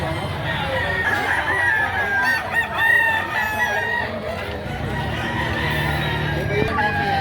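A stag rooster crows repeatedly at a busy chicken market in Lipa, Batangas, among other clucking fowl. The crowing rises over constant crowd noise, and people talk nearby.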